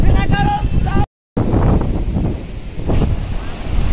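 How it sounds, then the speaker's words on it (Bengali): Strong sea wind blows across a beach at Kuakata while cycling along the shore, roaring and buffeting the microphone loudly throughout. A brief dropout cuts the sound near the middle, and a voice is faintly heard at the start. "প্রচুর বাতাস, প্রচুর।"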